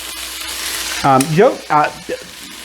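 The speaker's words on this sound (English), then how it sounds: "Our main objective with this fry is to get them browned" Small pieces of steak frying and browning in a pan: a bright, continuous sizzle, briefly overlaid by short tonal, voice-like sounds midway.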